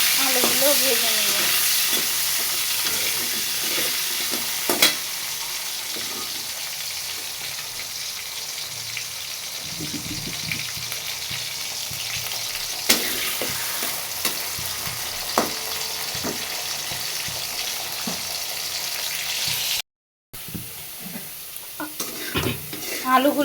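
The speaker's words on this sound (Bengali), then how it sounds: "আলুগুলো ভেজে নেব।" Potatoes frying in hot oil in a pan, a steady sizzle with occasional stirring clatters, close and continuous, with a brief dropout near the end.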